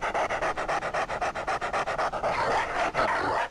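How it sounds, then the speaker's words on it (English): Rapid rhythmic dog panting from a 1996 Windows adventure game, The Last Resort, steady and close, with a short pause near the end. "The dog is the best part of this game, says Pyrokeer."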